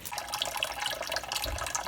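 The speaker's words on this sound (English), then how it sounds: "The water will shape the land as it runs across its surface." Water trickles and splashes across sand in a small stream table model, a close, steady bubbling flow with no voices.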